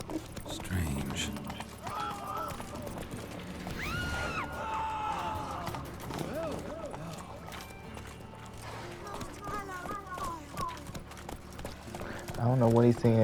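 Horse hooves clip-clop in The Witcher 3: Wild Hunt as a ridden horse moves along, with an occasional whinny and steady voices talking over the hoofbeats; the ground sound stays near and moderately loud.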